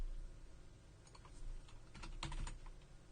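Quiet keystrokes on a computer keyboard, a few soft isolated taps, then a quick burst of clustered typing near the end, with no voices.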